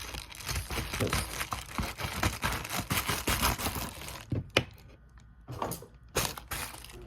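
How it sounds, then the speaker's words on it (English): A cardboard shipping package being cut and opened with scissors, loud crinkling and tearing of packing material for several seconds, then a few sharp isolated rustles and snips with short pauses between them; no talking. "let's open up this package. I got some scissors."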